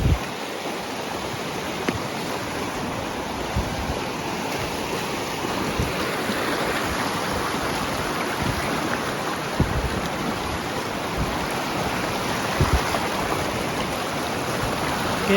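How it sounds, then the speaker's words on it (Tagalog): A continuous roar of flowing river water, loud and close, unbroken throughout with faint splashes mixed in. "naririnig nyo ba yung ilog? Sobrang lapit lang sa ilog."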